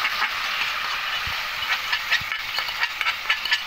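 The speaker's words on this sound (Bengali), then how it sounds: "এবার এখানে ভিজিয়ে রাখা মুগ ডালটা দিয়ে দেবো, যে মুগ ডালটা ভিজে রেখেছিলাম," Soaked mung dal hits a hot pan of spices and sizzles with a continuous close hiss, while faint clicks and stirring scrapes sound through it.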